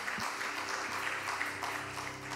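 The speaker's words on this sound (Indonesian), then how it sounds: "Berikan tepuk tangan untuk Tuhan" Congregation applause during an online evening prayer service, steady soft clapping from a gathered crowd, distant and even throughout with a faint low hum underneath.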